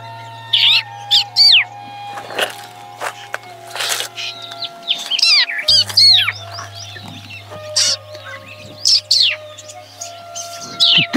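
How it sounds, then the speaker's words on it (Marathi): Many birds perched together in one tree give a busy mix of sharp chirps, whistles and rapid calls, loud and close, with overlapping bursts and brief pauses. "किती पक्षी एका झाडावर आहेत ना"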